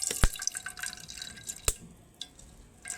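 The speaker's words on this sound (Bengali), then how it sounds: "যতটা সম্ভব নিংড়ে কিন্তু এই রসটা বের করে নিতে হবে" Juice from mashed raw papaya, with no water added, drips in sparse, irregular drops as the paste is squeezed by hand, faint and close in a quiet room.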